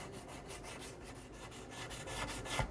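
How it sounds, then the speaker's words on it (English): Close rhythmic rasping strokes of 220-grit sandpaper on a StewMac sanding tool, worked slowly back and forth over the frets of a Les Paul guitar during a fret job, with no talking. "And then once you get really close, you can use some 220 sandpaper."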